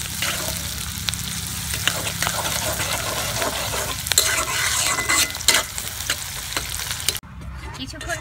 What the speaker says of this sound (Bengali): প্রথমে নেড়ে চেড়ে পেঁয়াজটাকে ভেজে নিতে হবে।